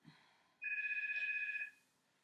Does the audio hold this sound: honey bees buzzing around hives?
no